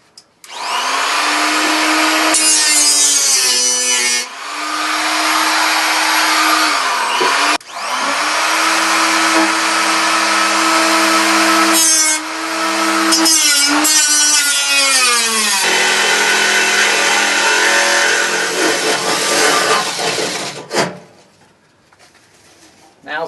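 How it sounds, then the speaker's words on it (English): A power tool cuts out metal from the crossmember of a Plymouth Duster under restoration, a loud, close, whining grind in long bursts with pitch dips and brief pauses, cutting off near the end. "I marked out an area that I'm going to cut out and replace with new metal and weld it up"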